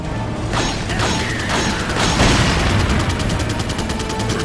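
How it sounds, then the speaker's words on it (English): Gunshot followed by an explosion in the Resident Evil 4 HD Project video game, set against loud continuous game music with repeated mechanical clicking and sharp impacts mid-clip. "did you hear how the gunshot and then the explosion went with the music?"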